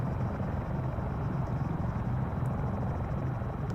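Helicopter in the Arma 3 military game, a steady low rotor thump and engine drone that runs continuously at an even, fairly close level with no voices.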